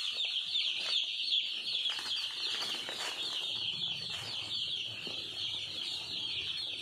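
A brooder full of young chicks kept at about 36 degrees, a dense continuous chorus of high peeping with soft rustling and shuffling underneath, steady and close.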